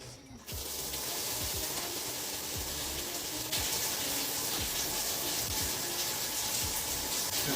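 A shower starts up, with a click and then water spraying in a steady, even hiss that runs on continuously and grows slightly fuller partway through, moderately quiet with no talk.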